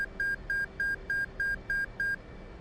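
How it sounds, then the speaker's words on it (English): Eight short, evenly spaced electronic beeps in an F/A-18C cockpit in the flight simulator DCS World, confirming the flight control system passed its built-in test during a cold start, a steady bright pulse over a low background hum. "That little beeping confirms that our FCS did pass its bit"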